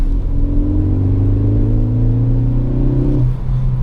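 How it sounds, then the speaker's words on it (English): A 2017 Ford Focus ST is pushed hard in third gear on snowy, slippery roads in sport mode with traction control off. The engine note climbs steadily and loudly under acceleration, then drops off near the end, with no talking. "we'll punch it here in third gear and see what happens"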